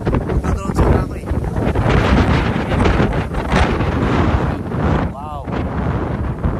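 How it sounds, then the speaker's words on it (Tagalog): Strong wind blowing outdoors in open country, gusting loudly and buffeting the microphone in rough bursts, while people talk over it. "Sobrang lakas na ng hangin."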